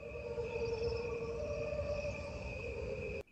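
Chorus of crickets in an original field recording, a faint steady high chirring drone over low background hiss, continuous until a sudden cut at the end.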